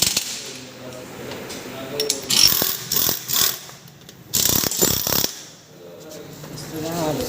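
A ratchet wrench works on a BS6 motorcycle engine during a timing chain change, opening the cover in several loud, close bursts of rapid clicking separated by short pauses.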